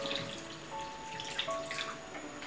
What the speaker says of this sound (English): Add 1 cup of water into the mixer.